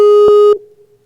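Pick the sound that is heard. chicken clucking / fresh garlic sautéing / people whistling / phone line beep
phone line beep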